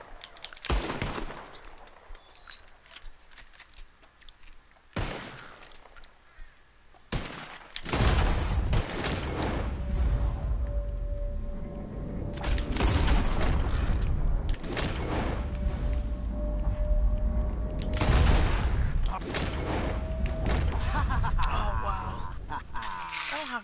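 Gunfire in a Red Dead Redemption free-roam shootout, loud bursts and rapid volleys of shots with mechanical clatter, starting after a few quieter seconds and continuing densely, with voices mixed in.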